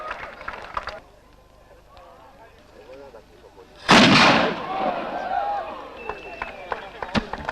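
A 6-pounder gun fired to start a practical pistol shooting competition: a single loud, sharp blast with a long rumbling decay, preceded and followed by quieter crowd noise and voices.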